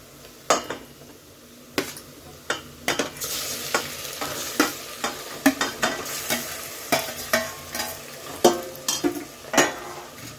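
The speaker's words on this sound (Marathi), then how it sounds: "आपण आता इथे मटण घालून घेऊया।" Mutton and fried onions sizzle in a pan while a spatula stirs them in regular, sharp scraping knocks against the metal, close and clear over a constant frying hiss.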